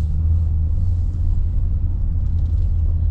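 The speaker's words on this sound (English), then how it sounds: "at low speed, it's just struggling to engage the clutch, which is completely normal" Low, heavy rumble from an F1 car's transmission struggling to engage the clutch at low speed, a steady, dense drone with no clear gear changes and no talking.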